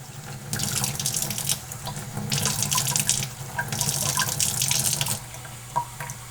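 Tap water splashes in loud, close bursts as baby brine shrimp are rinsed, the flow surging and easing in several pulses with a few drips between, and no voices.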